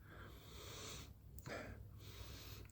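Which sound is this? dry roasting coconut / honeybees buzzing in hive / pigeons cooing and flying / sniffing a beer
sniffing a beer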